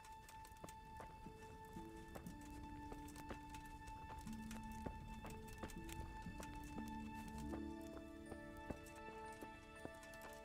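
Horse hooves clip-clop in the medieval game Kingdom Come: Deliverance, a quiet, fairly regular trot of hoofbeats over soft ground, with steady game music tones sustained underneath.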